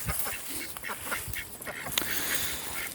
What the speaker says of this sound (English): the ducks and chickens want to hang out